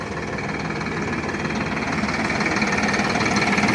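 A tractor engine idles steadily nearby in Finland, a loud, continuous rumbling chug with a slight rise in level toward the end.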